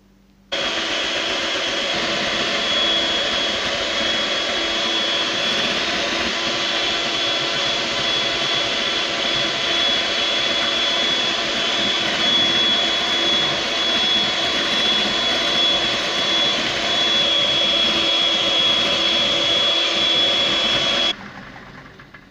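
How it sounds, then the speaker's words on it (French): An electric whisk beats an eggless chocolate mousse mixture over heat until it triples in volume, a loud steady whirring drone that holds for about twenty seconds before cutting off. "je vais monter jusqu'à ce que ça triple de volume et que ce soit bien mousseux"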